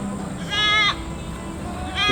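A goat bleats twice, a short wavering nasal cry near the middle and another starting at the end, close by over a quiet background.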